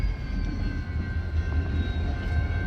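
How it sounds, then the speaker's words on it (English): A train at the railway station in Ardmore, Oklahoma, giving a low steady rumble with faint sustained horn-like tones above it, continuous and fairly near, with no voices. "Check out the train"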